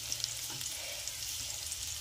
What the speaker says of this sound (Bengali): দেখুন বন্ধুরা, প্রায় পেঁয়াজগুলো ভাজা ভাজা হয়ে গেছে